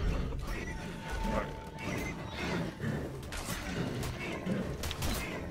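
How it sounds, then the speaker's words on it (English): A horse whinnies in a video game amid a busy mix of thuds and hoofbeats, with a voice briefly talking in the background. "Here comes a horse."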